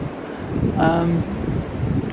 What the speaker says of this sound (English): this is what it's like with the whole wind tree situation